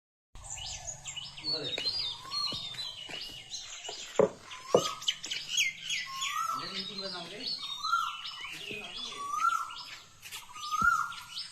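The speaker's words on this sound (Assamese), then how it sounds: "এবাৰ আমাক কুলি মাত শুনাবলৈ নিলে" An Asian koel repeats rising whistled calls, clearest toward the end, among other bird chirps and tweets, with people talking at times.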